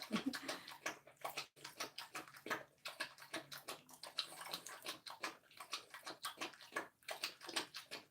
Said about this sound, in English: You hear her drinking water in the background?